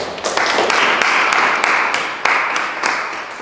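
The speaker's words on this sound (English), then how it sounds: "Let's give them a round of applause." A club audience gives its newly named officers a round of applause: dense, steady clapping from a roomful of people that carries on for several seconds.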